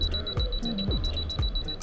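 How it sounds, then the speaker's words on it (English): A camera's two-second self-timer beeps quickly and regularly in a thin, high tone that stays fairly faint beneath busy outdoor background noise. "So let's go for 2 second shot."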